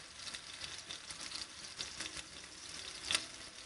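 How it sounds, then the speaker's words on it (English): Faint, steady sizzling crackle with soft pops inside a homemade pizza oven, like food frying in high heat, heard from a short distance with no talking. "it's sizzling in there"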